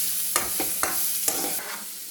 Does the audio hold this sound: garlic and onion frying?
yes